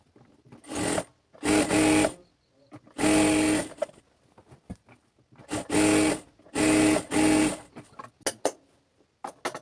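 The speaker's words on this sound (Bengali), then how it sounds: "এভাবে অপর পাশের হায়ার সাইডটাও সেলাই করে নেবেন" An electric sewing machine stitches a pajama pant seam in about six short bursts of fast, buzzing needle action, separated by pauses with faint handling clicks, loud and close.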